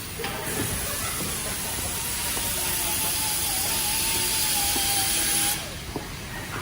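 Rust being cut out of a 1964 Chevrolet Impala body in a vocational school shop, a steady loud hissing grind with a thin whining tone that runs for several seconds, then stops abruptly.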